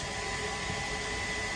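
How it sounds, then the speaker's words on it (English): A steady, loud rush of air from a hair dryer blowing into a maple syrup evaporator firebox, continuous and unchanging throughout. "I got my blower going"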